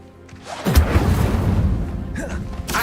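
Incendio fire spell cast in Hogwarts Legacy, a loud booming whoosh that swells into a sustained fiery roar and then fades, with a second burst at the end.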